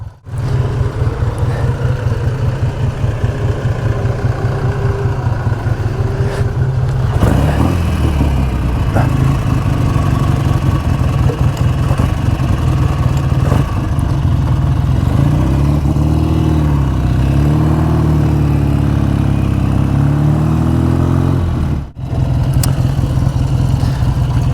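A BSA Super Rocket motorcycle with an electrical short runs close by, thumping steadily at idle with a few rising revs and a brief stumble near the end.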